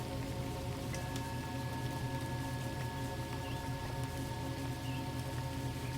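Steady rain falls over a lake at night, a soft continuous patter with a faint thin tone running through it, gentle and even from start to finish with no voices.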